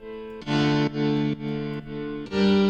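A distorted synth plays a short run of sustained notes with a wash of reverb, each note cutting off into a faint tail, in FL Studio.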